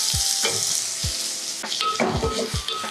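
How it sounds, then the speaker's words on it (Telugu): Onions and cumin fry in a pan for a spinach potato curry, a bright hiss of sizzling oil broken by several low thumping scrapes of a spatula stirring, close and without talk. "సో మనం ఇప్పుడు ఈ ఉల్లిపాయలు కొంచెం పింక్ వచ్చేంత దాకా వేయించుతాము"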